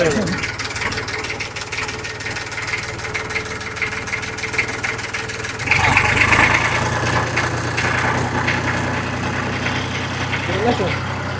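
A 36-year-old imported American Massey Ferguson tractor idles just after a cold start, its diesel engine chugging steadily and close by, growing slightly louder partway through, while people talk over it.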